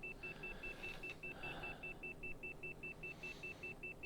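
Cockpit alarm in a flight simulator game aircraft flying too fast below 10,000 feet, a steady rapid series of short, evenly spaced high electronic beeps repeating throughout over a low engine rumble.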